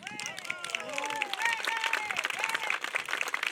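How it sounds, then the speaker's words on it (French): Crowd applause at an outdoor procession honoring a city's mayor, busy clapping from many people mixed with overlapping voices and whoops throughout. "Il faut l'applaudir encore un peu plus"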